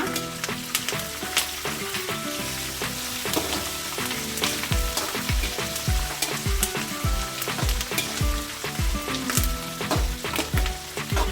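Curry leaves and dried red chillies crackle and sizzle in hot oil for a spicy flattened rice snack, with bursts of sharp pops and spoon stirring scraping through the steady hiss.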